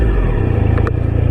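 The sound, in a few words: Triumph Street Triple RS motorcycle engine revving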